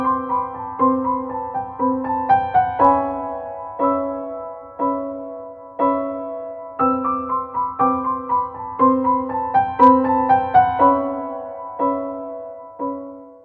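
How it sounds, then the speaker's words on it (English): Solo piano plays a descending, tinkly melody in repeated short phrases of bright plucked notes, each decaying quickly, moderately loud and close with no voices. "I have the piano descending in this tinkly melody"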